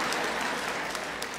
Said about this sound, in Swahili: Simnipigie makofi.